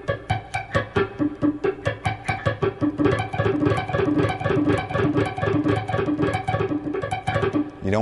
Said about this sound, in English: Now you can actually mute the strings and work on just the right hand.